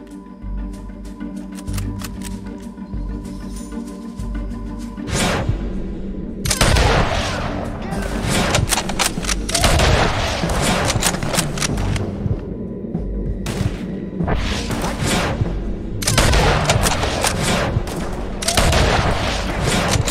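Gunfire in Red Dead Redemption 2 cracks out in loud bursts and rapid volleys, several shooters firing over a low background rumble, with short lulls between exchanges and occasional voices underneath.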